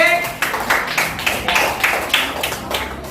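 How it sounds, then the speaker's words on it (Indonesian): A group of students in a classroom claps hands together for a class group, a short burst of fairly rhythmic, close claps with voices mixed in. "tepuk tangan dulu untuk kelompok C."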